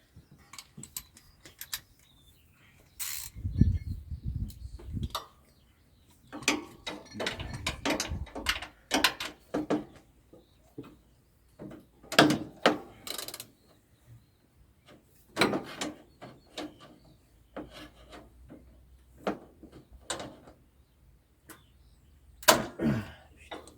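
A ratchet wrench works on a Tecumseh Yard Machines lawn tractor, giving bursts of quick clicking turns separated by pauses, close and fairly quiet amid small metallic handling noises.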